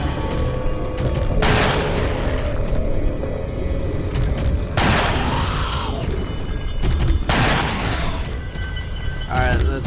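Gunfire and heavy booms from Resident Evil 4 (2005) as an enemy is gunned down, loud, dense blasts repeating every couple of seconds over a constant rumble, with a voice talking throughout.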